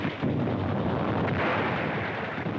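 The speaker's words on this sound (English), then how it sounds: "They shoot down counterattacking Nazis with savage joy." Heavy gunfire and artillery from a 1943 Soviet battle newsreel, a dense, continuous roar of blasts with no distinct individual shots, loud throughout.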